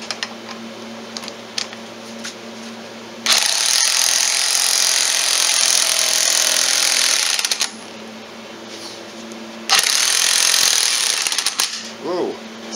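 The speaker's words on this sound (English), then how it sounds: "I'll have to hit it with a hammer." Metal-on-metal hammering on a rusty part of a 1996 Polaris Sportsman ATV during restoration, heard as long sustained bursts of rapid harsh banging, loud and close, separated by quieter workshop noise.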